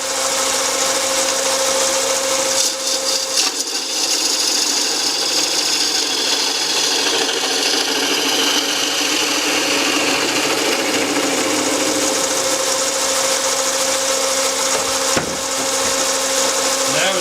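A wood lathe turns a small cherry box while a 3/8 spindle gouge with an Ellsworth grind cuts it, giving a continuous, loud scraping whir throughout.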